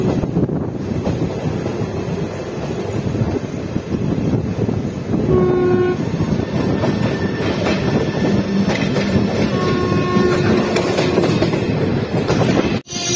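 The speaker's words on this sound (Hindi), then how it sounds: "प्लेटफॉर्म नंबर 2 पे आ रही हमारी ट्रेन आ चुकी है और आ गई" At a railway station platform in India, a train pulls in. Loud, steady rumbling and clattering of rail cars continues throughout, with horn-like tones sounding midway and heavy wind buffeting on the microphone. No speech is heard.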